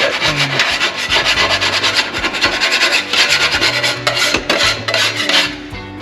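A scraper rasps over a hot griddle, clearing off leftover residue. The strokes are repeated, rhythmic, close and loud, and they go on without pause and without talk.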